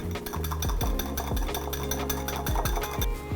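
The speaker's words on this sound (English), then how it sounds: "Give that a whisk." Lemon juice is whisked into a dressing in a bowl, a quick run of close rhythmic clinking strokes of the whisk against the side, moderately loud.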